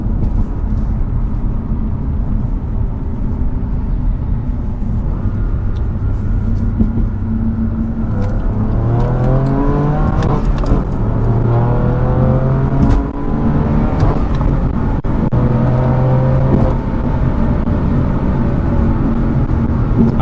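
A BMW F80 M3 fitted with Bilstein B16 coilovers pulls hard through the gears on a highway from inside the cabin, engine note climbing steadily with brief dips at shifts, loud and constant.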